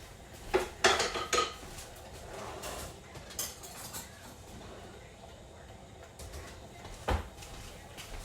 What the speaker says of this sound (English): let me go get another spoon and try it again